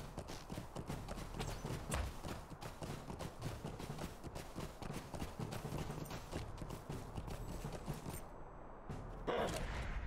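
Horse hooves clip-clop in The Lord of the Rings Online video game, a dense, steady stream of hoof beats near ruins that runs throughout, with a brief shift in the background near the end.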